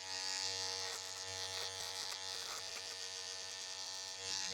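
An electric shaver buzzes steadily throughout while someone shaves, a close, even mechanical hum with no pauses and no talking.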